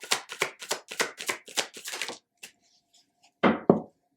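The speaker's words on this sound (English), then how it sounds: "Let's pull some more cards." Tarot cards shuffled in a quick run of crisp, close riffles, then a pause, a few faint taps, and a final louder slap as cards are drawn.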